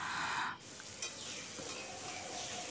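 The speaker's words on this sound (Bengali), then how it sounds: "আমি আরেকটু ভেজে নিচ্ছি।" Spiny gourd (kakrol) slices are stirred and fried dry in a pan, giving a soft, steady sizzle with a faint scrape of the spatula and no voices.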